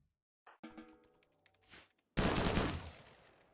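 Gunfire in the video game RimWorld: a few sharp synthetic shots and clicks, then a loud burst of rapid fire that slowly fades, with no voices.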